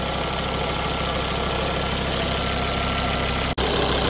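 A car engine idles close by in a steady, loud, even drone with a faint knocking texture, broken by one brief dropout near the end.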